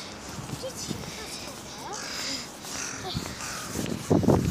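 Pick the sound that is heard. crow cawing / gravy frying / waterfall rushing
crow cawing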